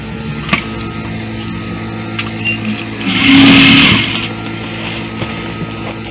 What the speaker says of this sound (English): so i want to start stitching now